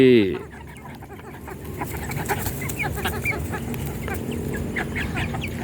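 Several Rhode Island Red chickens, about two and a half months old, clucking softly and continuously nearby, with a brief louder squawk at the very start.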